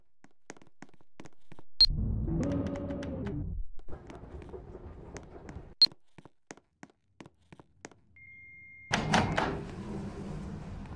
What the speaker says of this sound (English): Please stand clear of the closing door.